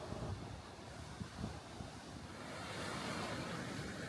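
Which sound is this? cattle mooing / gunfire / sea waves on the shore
sea waves on the shore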